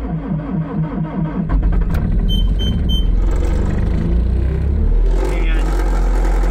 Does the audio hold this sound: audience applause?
no